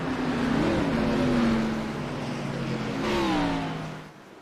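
A pack of race cars follows a pace car around an oval track under caution. The engines drone steadily and fairly close, with a rising pass-by swell before the noise fades out.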